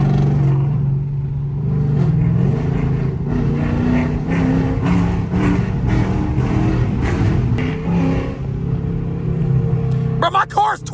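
A Chrysler 300 with a 5.7 Hemi V8, cold air intake and 180 thermostat tune, revs up loudly and close by in a deep, throaty rumble that swells and drops over several seconds while someone talks over it.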